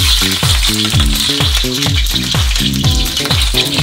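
Chopped garlic sizzles in hot olive oil in a pan, a loud, dense frying hiss with no talk over it.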